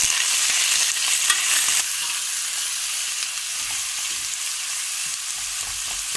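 Cumin seeds crackling and frying in hot mustard oil, a steady loud sizzle with faint pops and stirring, no voices.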